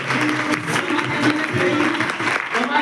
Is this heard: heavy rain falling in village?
no